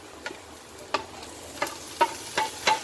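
Roughly chopped tomatoes frying with almonds, cashews and onions in a kadhai, a low steady sizzle broken by about six sharp stirring scrapes spaced through the clip, close up with no talking.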